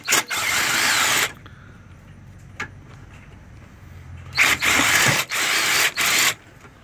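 A ratchet zips 13 mm bolts off the subframe of a 2013-2015 Chevrolet Malibu LT 2.5L, with a loud sustained burst, a quiet gap, then two more rapid bursts close to the listener.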